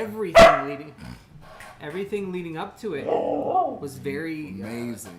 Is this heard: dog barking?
yes